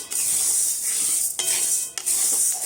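Dal lentils lightly frying in a pan, a steady bright sizzle with a few scraping stirs and clinks of a utensil against the pan.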